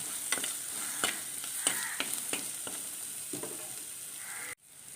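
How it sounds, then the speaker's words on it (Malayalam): Sliced coconut fries with ginger, garlic and green chili in a pan for a squid dish, a steady close sizzle broken by repeated spoon scrapes and stirring clacks, with no voices. "ഇനി രണ്ട് മൂന്ന് കഷ്ണം തേങ്ങ അരിഞ്ഞതിട്ട് കൊടുക്കാം"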